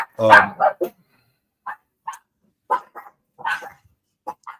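Several dogs bark in short bursts indoors, loud at first and then in scattered yaps and woofs through the rest of the stretch, close to the microphone.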